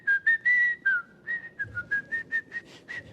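A person whistles a quick tune to imitate someone whistling during ablution, a run of short, bright notes in an uneven rhythm, close and clear.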